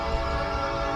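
A train somewhere in the distance sounds a steady, sustained horn tone over a low rumble, heard alone and fairly loud.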